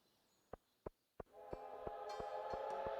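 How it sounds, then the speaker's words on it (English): A train in the Stardew Valley video game arrives with a few sharp clicks, then a steady loud rumble and rattle of cars passing, with a horn-like tone over it. "Ooh, a train!"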